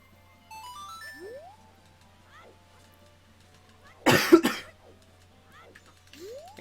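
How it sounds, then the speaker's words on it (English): A person with a bad flu lets out a single harsh, loud cough, a short double burst near the microphone, against quiet background chimes and tones from a video game. "which is why I have such a bad cough"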